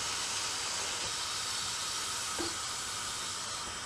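Pieces of devilled chicken deep-frying in hot oil, a steady dense sizzling hiss that runs evenly throughout without pauses or speech.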